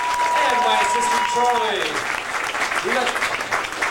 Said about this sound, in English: one more big round of applause for our entire crew